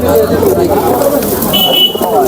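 Gola pigeons at a crowded pigeon market in Nazirpur bazaar, soft cooing mixed into steady nearby human chatter and talk.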